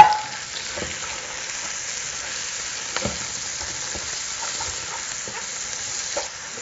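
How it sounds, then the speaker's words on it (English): Chopped Vidalia onion and garlic frying in bacon grease while being stirred, a steady close sizzle with occasional scrapes and taps of the spoon, no voices. "I'm going to stir this up with that bacon grease. Start cooking these onions down a little bit."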